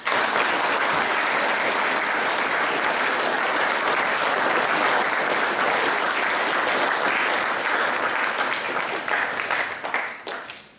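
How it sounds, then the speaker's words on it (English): An audience at a school assembly claps loudly and steadily for about ten seconds, a dense wash of applause that thins out and tapers off at the end. "Please give them another round of applause."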